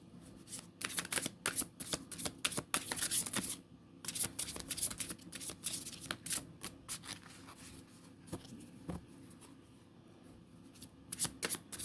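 Tarot cards are riffled and shuffled by hand in a quiet room, giving rapid flapping bursts separated by short pauses, then a few softer slides and snaps as cards are drawn from the deck.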